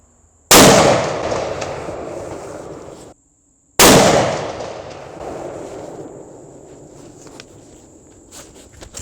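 Two loud, sharp rifle reports from a .300 Win Mag ring out a few seconds apart, each followed by a long decaying echo outdoors; only two of the three-shot group are audible.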